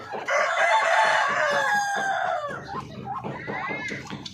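Parawakan chickens in a backyard farm: a rooster crows loudly and close, with stretched harmonic calls, followed by softer clucking and bird chatter among the flock.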